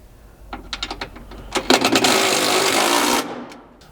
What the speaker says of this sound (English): grab your 10mm socket and tighten those up